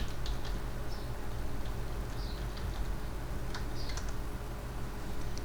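Soft, quick keystrokes on a computer keyboard tap in short irregular runs over a steady background hiss, with no talking.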